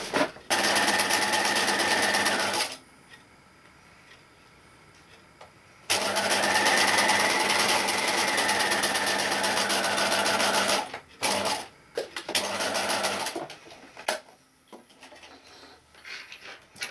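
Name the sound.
sewing machine stitching fabric edges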